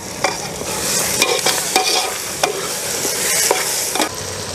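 Ginger-garlic and coriander paste fries in a hot pan with a steady close sizzle, punctuated by several sharp scrapes and clicks of a spoon stirring against the metal, no voices.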